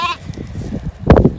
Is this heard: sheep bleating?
yes